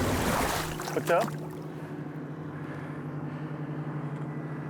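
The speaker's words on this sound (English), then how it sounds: "As you see, boats are still taking off." Bass fishing boats taking off on Lake Eufaula during a tournament, outboard motors droning steadily in the distance after a burst of louder noise, with a voice speaking briefly at the start.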